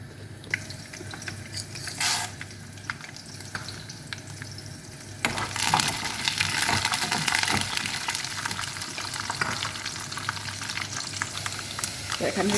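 A few fenugreek and mustard seeds drop into hot oil for an egg dish. After a quiet stretch with light kitchen noise, a sudden loud sizzle bursts out and keeps crackling steadily to the end.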